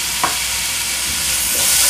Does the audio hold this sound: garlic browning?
yes